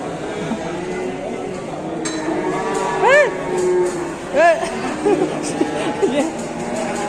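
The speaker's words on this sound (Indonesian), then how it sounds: "Ini tadi lagi lihat sapi ngamuk tuh," An agitated, rampaging cow moos repeatedly in short, rising bellows at moderate distance, over a busy background with faint clinking and murmuring voices.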